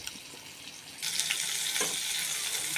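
Chicken pieces frying in oil give a loud, dense, steady hiss of sizzling that suddenly swells after a quieter start and stays strong to the end, close up with no talking.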